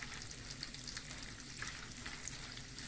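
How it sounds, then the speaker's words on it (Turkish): Green peppers frying in a pan while being stirred, a continuous dense sizzle with light crackles, faint and even, with no voices. "Yeşil biberlerimiz kavruluncaya kadar karıştıracağız"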